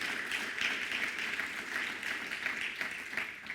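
Applause from a church congregation during a sermon, a dense steady wash of clapping that holds evenly throughout.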